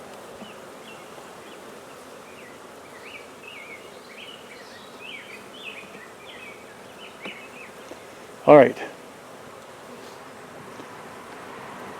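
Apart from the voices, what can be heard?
bees buzzing around a hive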